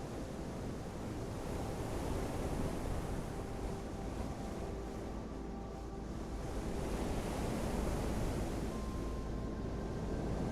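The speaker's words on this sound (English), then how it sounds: "Watch the waves and how they seem endless." Ocean surf rolls and breaks continuously on a beach, a dense, steady wash of wave noise with gusts of wind over the microphone and no voices.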